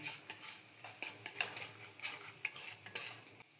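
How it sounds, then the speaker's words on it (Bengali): A spiced egg curry with pickle spice mix is stirred in a frying pan: a run of quick, close scraping and swishing strokes over a soft sizzle, steady and fairly quiet. "এরপর ভালো করে আমি নেড়ে-চেড়ে নেব।"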